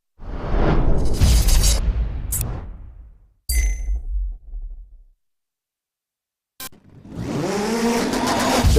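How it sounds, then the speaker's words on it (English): A Subaru Impreza rallycross car with a 550 bhp Boxer engine in the DiRT 3 racing game roars loudly, with tyre squeal, then cuts out abruptly. After a brief silence the engine returns with a rising rev sweep. "With over 550 brake horsepower available from the Boxer engine and a chassis tuned for circuit racing, the Impreza is a formidable package"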